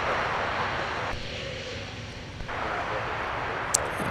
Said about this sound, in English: We got Delta with a 321 Neo.